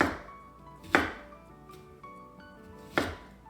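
A knife chopping an onion into thick chunks on a cutting board, three distinct sharp cuts spaced about a second apart, close and quiet, with no talking.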